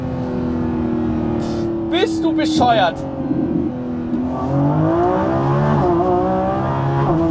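A powerful Lamborghini Revuelto V12 engine roars and revs hard, rising in pitch through gear changes, with excited voices speaking over it.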